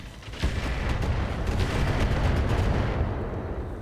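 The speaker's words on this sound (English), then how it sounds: "That shot got past my arm." A King Crab mech fires its weapon in the RogueTech video game: a loud, booming volley of rapid cracks over a heavy rumble, sustained for a few seconds with no voices.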